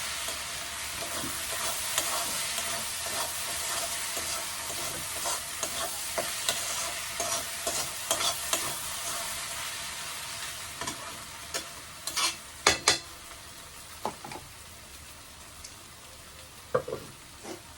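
Onions fry in a pan for a fish curry, a steady close sizzle that gradually quiets, punctuated by several sharp clinks and scrapes of a spoon stirring.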